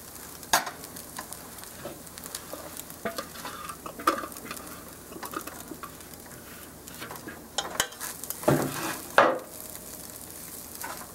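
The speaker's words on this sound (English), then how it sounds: "we go ahead and then keep on stirring and saute it" A spoon stirs tofu sevai sautéing in a hot pan, a steady sizzle beneath repeated scraping and clinks of utensil against cookware, with a few louder knocks near the end and no talking.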